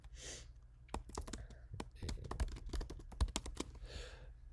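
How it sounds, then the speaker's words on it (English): Typing on a computer keyboard while setting up a meeting, a quick run of close, crisp key clicks in an uneven rhythm that thickens mid-stretch, with no talking over it. "you can just type it in here"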